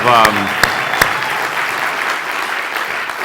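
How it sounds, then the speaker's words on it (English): Applause from a keynote audience, a dense wash of clapping from a crowd with a few sharp claps standing out early on, and a voice briefly heard over the start. "let's give a big round of applause for Brian"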